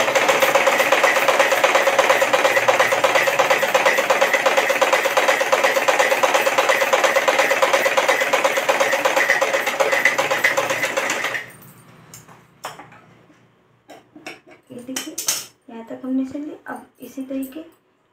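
A sewing machine runs steadily for about eleven seconds while stitching the side seams of a flared Patiala salwar, then stops abruptly, leaving quiet speech with a few faint handling noises.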